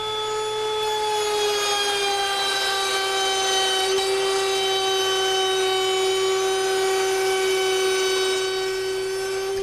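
A hand router cuts through rabbets in wooden boards, a loud, steady high-pitched whine with bright harmonics that holds evenly from start to finish, close by and with no talking.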